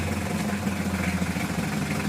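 A Mitsubishi L300 engine runs steadily from the side, a constant mid-pitched hum with a faint rhythmic knock and no talking. The van has trouble starting when hot, stalls on inclines and smokes.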